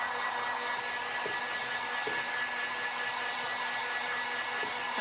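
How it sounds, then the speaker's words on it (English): A heat gun blows hot air to speed the drying of repurposed Brumate thermos boxes, producing a loud, steady, close whooshing whir that holds unbroken throughout. "Let's use the heat gun on them both real quick,"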